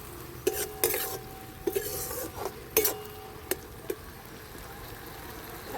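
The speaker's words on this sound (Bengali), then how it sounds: "দিয়ে একটু নেড়ে চেড়ে নিচ্ছি।" A spoon stirs ginger paste in a pan for a crab dish, with a soft sizzle underneath and a few sharp metallic scrapes and knocks against the pan at irregular intervals.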